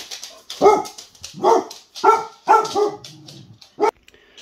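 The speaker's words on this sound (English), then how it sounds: "The dog's going crazy because she loves her more than she loves me." A pet dog at home barks excitedly in a burst of about six loud, close yaps and woofs with short gaps, ending in a final sharp bark.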